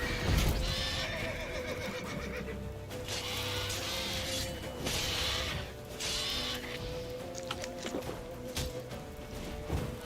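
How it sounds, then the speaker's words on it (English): In The Witcher 3 video game, a horse whinnies loudly several times while hooves clip-clop amid game sound effects and mechanical clatter, with no voices. "gotta get to Roach. Roach, what are you doing? Roach, get over here. Run, Roach"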